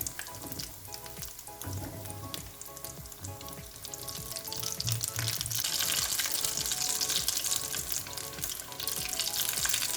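Hot oil sizzling and crackling steadily as a snack of boiled egg and potato fries in a pan, turned until golden, with dense spattering that swells louder midway and occasional stirring sounds.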